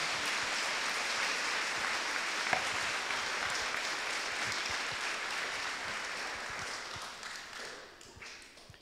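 Church congregation applauding during a Mass led by a priest, a dense, steady wash of many hands clapping close by that holds for most of the stretch, then thins and fades near the end.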